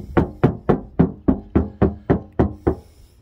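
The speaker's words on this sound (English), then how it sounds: "go at the top and knock on top of your roof, and you'll hear the tin can sound" About ten quick knocks on an untreated car roof give a tinny, ringing metallic sound, close and loud at a steady rhythm with brief decay after each hit.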